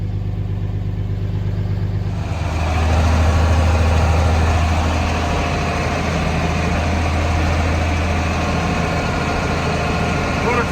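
A tractor engine idles close by in a low, steady rumble, then its note rises and thickens after a couple of seconds and keeps droning on evenly.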